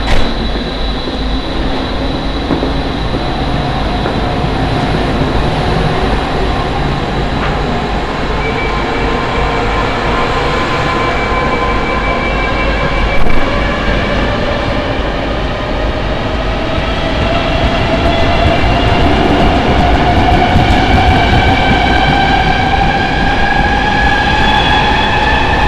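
A train stands and moves at Púchov railway station in Slovakia, a loud steady rumble with rising and falling tonal whines from the engine and wheels that runs the whole time, with a faint clank partway through.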